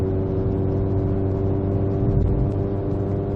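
A Baun Performance exhaust drones at a steady 2800 RPM inside the cabin, a strong, even low-pitched hum with layered harmonic tones, loud and unbroken for a few seconds.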